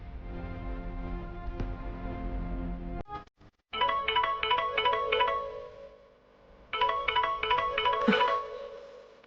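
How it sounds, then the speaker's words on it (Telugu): A mobile phone rings for an incoming call in a Telugu TV serial scene: two bursts of a bright, repeating electronic ringtone pattern after a low musical background cuts out, fairly loud and close. "శ్యామ అని ఫోన్ చేస్తోంది."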